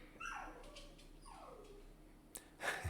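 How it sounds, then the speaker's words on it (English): A dog whimpers and yips in the background of a room, several thin rising and falling whines followed by a short sharper yelp, faint and distant. "my dog is doing something in the background here"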